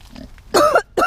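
A Kune Kune pig gives a couple of short, loud grunts up close in a farrowing pen, with quieter snuffling before them.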